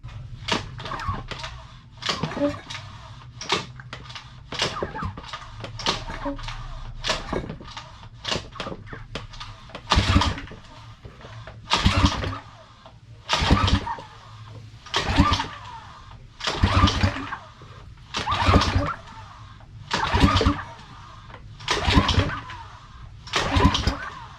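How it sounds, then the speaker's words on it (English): A locked-up Suzuki 6 hp DF6A outboard motor cranks over repeatedly without firing, compression giving a rhythmic series of sharp puffs and pops from the exhaust, sped up at first and then slower. "I can get the little putt-putts out of the exhaust, mainly from the compression pushing through"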